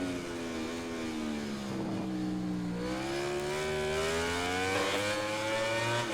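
MotoGP racing motorcycle engines from the MotoGP 2020 video game in career mode wail at high revs, the pitch dipping as the bike brakes and then climbing again under acceleration, loud and continuous with no voices.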